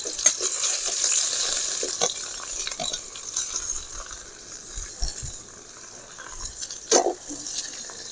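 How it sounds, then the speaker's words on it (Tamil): Onions dropped into hot oil for a chicken vegetable thanni kuzhambu, cooked outdoors in hot sun: a loud, bright hissing sizzle that swells at the start, then settles into steady crackling with scattered clinks and stirs. "நம்ம வெங்காயம் போட்டுக்கலாம்."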